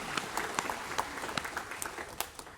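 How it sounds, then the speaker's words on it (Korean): Scattered clapping from a church congregation during a Sunday service, a light, uneven patter of individual claps with separate sharp hits across the whole clip. "영광의 박수 하나님께 드리겠습니다."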